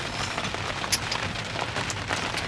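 Heavy rain pouring during a thunderstorm over a flooded rice field, a dense continuous hiss of drops hitting surfaces with no gaps, loud and close.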